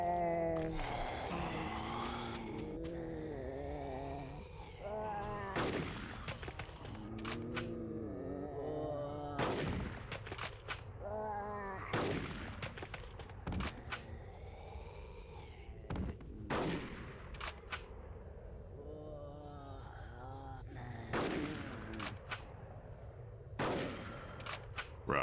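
Gunfire in the video game Conker's Bad Fur Day, with repeated loud shots and bursts scattered among game music and effects.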